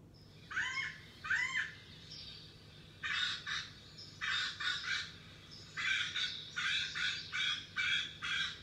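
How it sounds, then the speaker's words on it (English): An acorn woodpecker call played from a computer in a storytime setting, a series of raspy, squawking repeated calls in short bursts, first two rising cries then rhythmic clusters, moderately loud over a quiet room. "I'm going to play what the acorn woodpecker sounds like."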